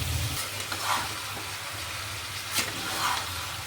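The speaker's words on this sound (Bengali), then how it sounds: "ভালো করে কষাতে হবে মাংসটা।" Mutton pieces fry with papaya in a pan, a steady sizzle broken by a few scraping stirs of a spoon, close and clear with no talking.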